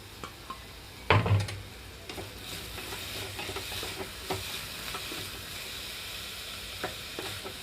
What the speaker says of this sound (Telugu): సాల్ట్ వేయకుండా వేయించుకుంటున్నాను పొట్లకాయ ముక్కలు